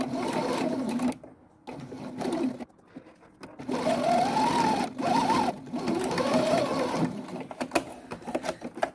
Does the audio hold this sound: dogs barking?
no